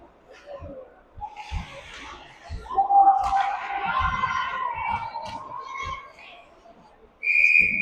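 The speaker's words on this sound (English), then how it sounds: "Whistle." A referee's whistle at a U15 ice hockey game between the McKnight Mustangs and Red Deer Chiefs, with arena crowd murmur throughout and one sharp, shrill blast near the end.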